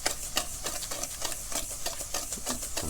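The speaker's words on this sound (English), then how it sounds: "So now we're going to whisk this together so it's nice, smooth, creamy, and a little fluffy." Egg yolks, vanilla extract and salt are whisked together in a bowl for an Italian apple cake batter, making a steady, rapid rhythmic clicking and scraping that stays loud and close throughout, with no talking.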